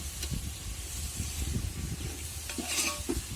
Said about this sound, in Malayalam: അപ്പം നമ്മളിത് ബിരിയാണിക്ക് ആവശ്യമുള്ള ചിക്കൻ ഇതിനകത്ത് ചേർത്ത് കൊടുക്കാം.